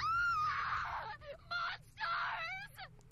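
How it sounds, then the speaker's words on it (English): A loud scream from the video game Devil Survivor 2, two long wailing cries with shorter yelps between them, close and alone. "Boy, that was a real good scream."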